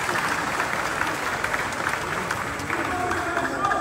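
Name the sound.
applause from convention delegates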